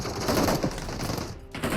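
Gunfire from a PUBG Mobile match crackles in bursts of rapid shots, fairly faint and distant-sounding, with a brief drop to near silence before the firing resumes.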